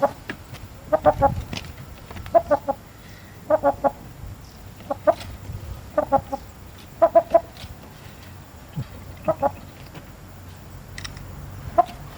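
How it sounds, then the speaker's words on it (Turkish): A Brahma rooster clucks in short bursts of two or three notes, repeated at irregular intervals against a quiet background, fairly close. "Horoz"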